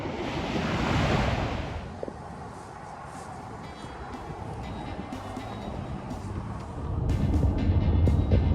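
Waves washing onto a lake shore with steady wind rushing across the microphone, the surf swelling louder near the start and again at the end.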